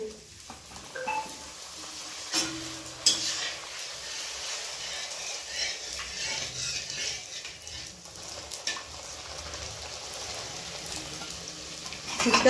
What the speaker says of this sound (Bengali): তেল গরম হয়ে গেছে ফুচকাগুলো ভেজে নিচ্ছি